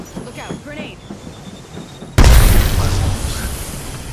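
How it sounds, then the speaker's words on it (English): A grenade explodes in a first-person shooter video game, a sudden loud boom that cuts in after quieter in-game voice lines and leaves a sustained roaring rumble afterward. "Look out. Grenade."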